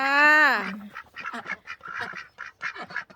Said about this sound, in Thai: นี่เป็ดรุ่นแรกจ้า ฟักไข่เอาเอง